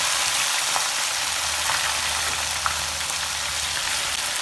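Beef fries in coconut oil with Kashmiri chili powder, a steady close sizzle with faint crackles throughout and no talking.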